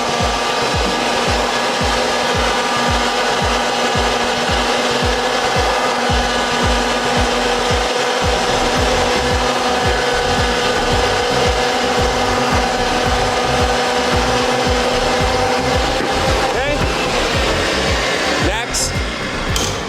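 A pipe threading machine cuts threads on steel pipe, a loud continuous motor drone with a rhythmic grinding churn from the die, steady throughout and ending with a few metallic clanks.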